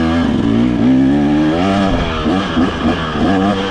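A 2023 KTM 300XC two-stroke dirt bike revs hard while being ridden, loud and close, its pitch rising and falling through quick throttle blips and gear changes.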